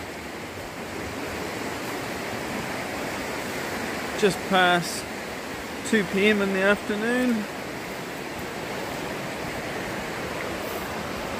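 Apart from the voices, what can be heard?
river flowing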